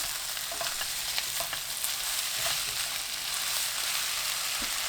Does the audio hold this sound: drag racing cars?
no